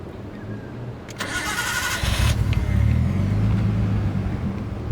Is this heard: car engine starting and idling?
yes